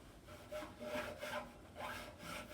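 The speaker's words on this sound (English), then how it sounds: "I'm actually going to wipe off my strings quickly" A soft, rhythmic rubbing swishes back and forth several times, faint and close, as a cloth is drawn quickly along cello strings.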